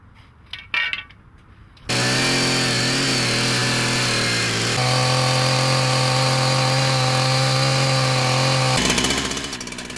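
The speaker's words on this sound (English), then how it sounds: "Cuts have to be made from both front and rear, and both large and small saws are needed." Large and small power saws cutting a channel into the torso of a knight sculpture, with a loud, sustained, even whine that shifts pitch partway through, after a few brief knocks at the start.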